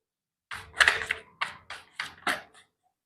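Tarot cards being shuffled and handled, heard as a series of six or seven crisp, close flicking and riffling bursts in quick succession, then stopping, with no talking.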